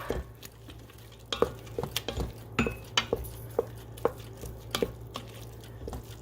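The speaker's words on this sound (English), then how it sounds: "the cilantro is in the pot, and I'm going to stir it up" Cilantro being stirred into a cooking pot, a spoon scraping and tapping against the metal in irregular strokes over a low steady hum, close and moderately loud with no voices.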